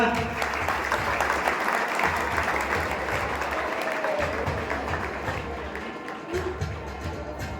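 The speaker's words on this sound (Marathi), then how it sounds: "टाळ्या वाजवून द्याव्या." Audience clapping at a school prize-giving ceremony, dense sustained applause that holds steady and slowly thins toward the end, fairly close.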